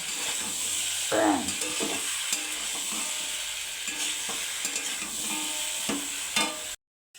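Spices sizzle in a hot pan for a vegetarian dish while a spoon stirs and scrapes against the metal in irregular strokes; the close frying hiss runs throughout, then drops abruptly to silence at the end.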